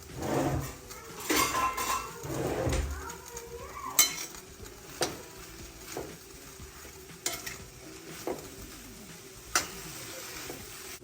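Spoon stirring a chicken curry masala of onions and fennel seeds in a frying pan, with soft sizzling throughout and several sharp clinks of utensil against metal; no talking.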